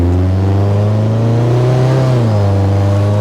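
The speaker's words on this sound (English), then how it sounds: "this thing shifts like a BMW." A 1982 Toyota Corolla with a modified engine and gearbox pulls hard under acceleration, the loud, close engine note rising steadily in pitch, then dropping abruptly as the gear changes.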